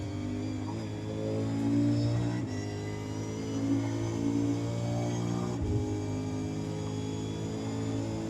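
V8 Supercar drifting around Watkins Glen in the iRacing sim, a steady droning engine note with rising and falling revs through the corner, held at moderate level without any voices.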